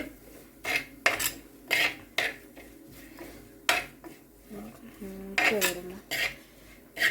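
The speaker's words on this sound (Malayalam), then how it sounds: "മുളക് പൊടിയൊക്കെ ഇവിടെ ഒന്ന് മൂപ്പിക്കാം" Chili powder roasted in a pan for a fish curry, heard as repeated sharp metal spatula scrapes and clinks against the pan in an irregular rhythm, close and clear, with a faint low sizzle between strokes.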